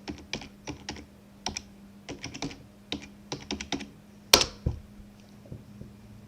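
Keys clatter on a computer keyboard in short bursts and single taps while a Linux install command is entered, with irregular pauses and one sharper, louder keystroke near the end over a faint steady hum.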